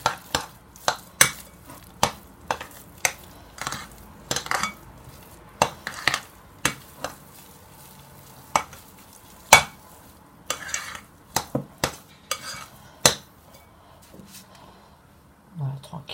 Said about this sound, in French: Une fois que c'est bien mélangé, je rajoute mes jaunes d'œufs.